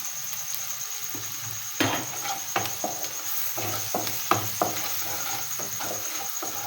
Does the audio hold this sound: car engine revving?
no